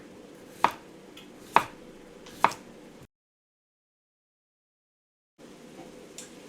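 A knife cuts at an angle through food on a cutting board while caponata is prepared, giving three sharp, evenly spaced chops close by. Quiet room tone follows, with no talking.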